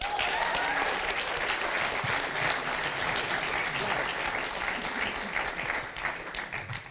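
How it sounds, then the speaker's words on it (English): Sustained applause from a large audience at an MBA talent show, steady and enthusiastic clapping that fills the whole stretch without pause. "A warm round of applause."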